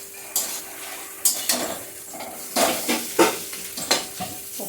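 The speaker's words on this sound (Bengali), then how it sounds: "এখন আমার মশলার সাথে এই মাথাটা আস্তে আস্তে আস্তে আস্তে কষানো হবে" A fish head frying and being stirred with spices in a dry pan, steady soft sizzle broken by repeated scraping and clinking strokes of a utensil against the pan, close and fairly loud.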